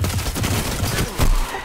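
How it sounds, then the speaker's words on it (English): Rapid gunfire and blasts from the Golden Gun in a Destiny 2 Control match, a dense, loud burst of shots over continuous battle noise, with a heavier report near the end. "That golden gun."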